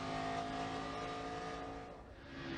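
An Xfinity Series race car engine heard from an onboard camera at the back of the car, a steady, loud droning roar with sustained harmonic tones that dips briefly before swelling again.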